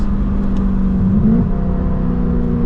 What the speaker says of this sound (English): Guys ready for downshifts?